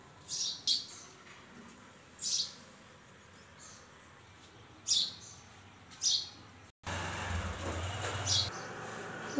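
Birds chirping outdoors on a fresh morning, several short bright calls spaced apart over quiet background, followed by louder rumbling ambient noise near the end.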